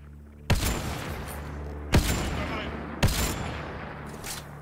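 Three loud gunshots in Mass Effect: Andromeda go off at steady intervals, each followed by a long rumbling echo, with a noisy hiss in the background.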